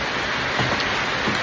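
Steady, dense rain falls without a break during a trek to a waterfall in India, a constant close hiss with no voices.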